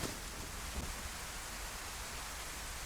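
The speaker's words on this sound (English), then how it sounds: "And it's teeming with rain." Heavy rain in the DayZ survival video game falls as a constant, dense hiss, steady and enveloping with no other clear sounds.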